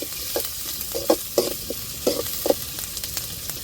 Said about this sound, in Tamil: வதங்கட்டும்